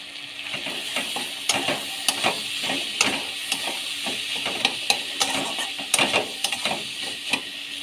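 Ground chilli, cumin, turmeric and ginger paste sautéing in a pan for a vegetable curry: a steady soft sizzle with scattered sharp clicks and scrapes of a stirring spoon, close up.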